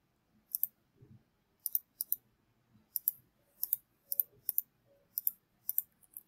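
A computer mouse clicks crisply and close while drawing in Revit software, in single and double clicks spaced irregularly across several seconds, with faint background handling sounds between them.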